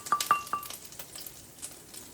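Grits popping in a very hot pan as they cook, a few quick faint pops and light crackles early on, then quieter sizzling.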